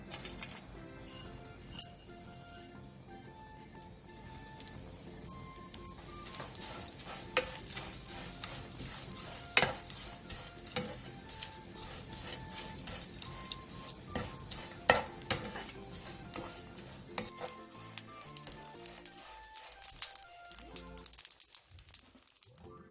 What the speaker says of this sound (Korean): 팬에 기름을 두른 뒤 깐멸치 크게 두 줌을 넣고 약불에서 3분에서 5분 정도 볶아주세요.